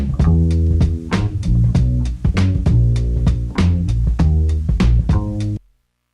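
Sampled bass loop running over a break beat, with crisp snappy drum hits and cymbal ticks on top of deep rounded bass notes, loud and dense, ending in a sudden stop.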